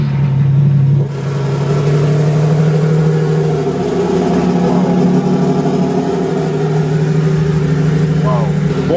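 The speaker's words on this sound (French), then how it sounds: "C'est parti pour écouter le bruit du coup de la Revuelto." A Lamborghini Revuelto idles with a deep, loud exhaust drone, then its engine note shifts and wavers with small revs, a steady rumble close by; a voice speaks briefly at the start.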